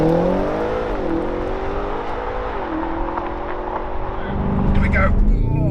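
A fast road car capable of 0–62 mph in about 3.6 seconds launches hard off the line, its engine note climbing through several gear-like steps and growing louder toward the end, heard close with a steady drone throughout.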